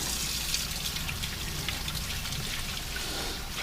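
Very hot tap water running steadily in a home kitchen, a continuous close hiss and trickle with no break and no voices.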